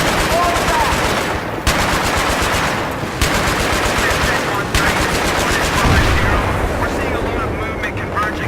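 Rapid bursts of heavy automatic helicopter gunfire in Battlefield 3 rattle continuously, with brief gaps between volleys and rumbling impacts underneath, loud and close.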